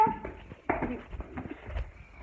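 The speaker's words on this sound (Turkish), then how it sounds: "Köpeğime merhaba deyin." A pet dog whimpers and whines in short uneven bursts close by, with soft rustling and small movement sounds around it and no talking.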